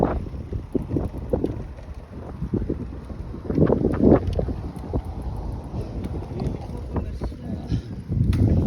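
Outdoor wind buffets the microphone during a bike ride in the Czech Republic, a low, rumbling roar that rises and falls in gusts throughout, with faint muffled voices underneath.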